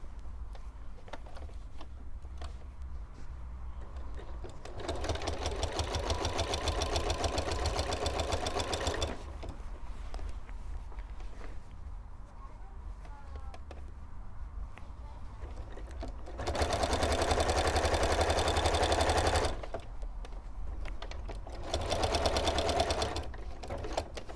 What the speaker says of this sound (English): I want to probably sew this one to about there.